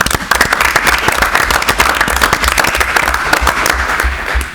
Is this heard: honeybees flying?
no